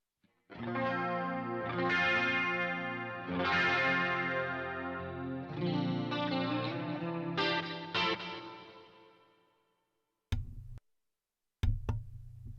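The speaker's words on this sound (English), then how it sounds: "that is the BB module, or the one of the Friedman modules, one of the channels on the Synergy" An electric guitar played through the Friedman BB module on a Synergy pedalboard, with distorted chords and notes ringing out at moderate level, some with a chorus-like shimmer, then a pause and a few short muted stabs at the end.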